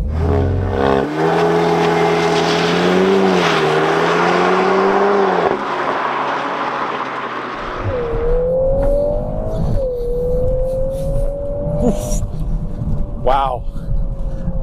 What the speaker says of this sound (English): I'm going to test the acceleration